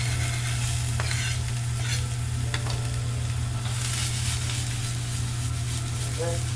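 Onions fry in hot oil in a pan for a chicken picadillo, giving a steady, close, continuous sizzle with occasional stirring scrapes and clinks, while a low hum runs underneath.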